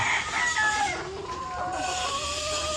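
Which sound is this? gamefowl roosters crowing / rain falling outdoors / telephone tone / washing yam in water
gamefowl roosters crowing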